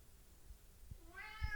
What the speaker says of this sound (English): cat's sitting behind me.